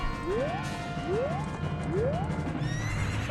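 Three rising, squealing horse whinnies from The Legend of Zelda: Ocarina of Time repeat in quick succession over a low rumble, followed by a sharper clatter.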